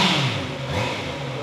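A brand-new 2024 Honda CB650R E-Clutch motorcycle engine revs up loudly and close by, a steady throaty roar holding high for the whole short stretch with no talking over it.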